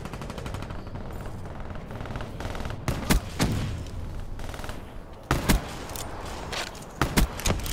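Bursts of gunfire in Call of Duty: Black Ops III, several loud sharp shots in quick clusters over a steady background din of game ambience.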